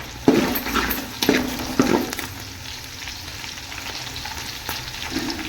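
Fennel seeds and green chillies fry in hot oil for a mushroom biryani, giving a steady close sizzle with a few sharper crackling bursts and spoon scrapes near the start.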